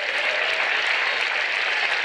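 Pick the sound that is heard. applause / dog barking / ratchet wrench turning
applause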